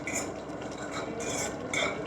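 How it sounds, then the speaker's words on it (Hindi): A spoon stirring garlic, chili flakes and salt together in a pan, heard as a steady close scraping and clinking of utensil against metal, fairly quiet and without talk. "इसको हम एक अच्छा सा मिक्स देंगे"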